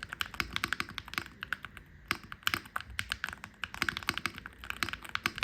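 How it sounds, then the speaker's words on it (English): Brisk, steady typing on a gaming keyboard with Pulsar magnetic switches made with Gateron, dense clacky keystrokes with a brief pause midway, close and fairly loud, no voices. "this keyboard feels great to type on with the Pulsar magnetic switch made in collaboration with Gateron"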